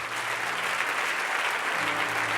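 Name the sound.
congregation applauding as an offering in church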